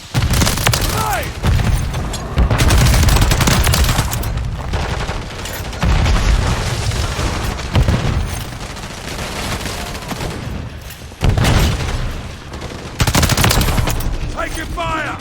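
Bursts of automatic gunfire and booming shots crackle loudly in a Call of Duty MW3 war mode battle, rapid volleys separated by short lulls, with voices calling out over the combat.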